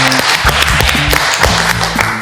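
Studio audience applause on a cooking reality show, loud close clapping with sharp individual claps and a tonal hum or music underneath throughout.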